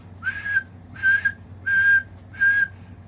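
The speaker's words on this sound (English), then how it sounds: "a clean push of air, a whistle." Four clean, steady whistles blown on a speckle-belly goose call, each about half a second long with short even gaps between them, close and clear with no buzz or voice in the tone.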